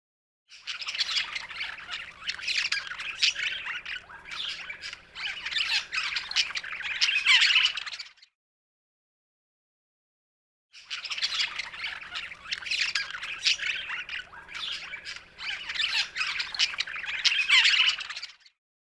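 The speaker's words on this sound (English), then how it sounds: "Budgie." Budgie squawking in two long runs of rapid, shrill chirps and squawks, clear and close, with a short silence between them.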